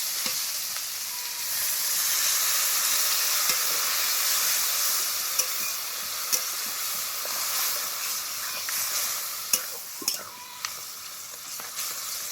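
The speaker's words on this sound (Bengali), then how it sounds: "এবার দিয়ে দেবো পরিমাণ মতো জল।" Water hits a pan of rohu fish head chorchori that has been cooking down, bringing a loud, continuous sizzling hiss that settles into a steady simmer, with a few sharp clinks of a utensil against the pan near the end.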